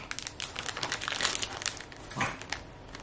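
A plastic blind-bag packet of collectible toys is torn and opened, giving close, busy crinkling and rustling bursts with crackly tearing for about three seconds and no talk.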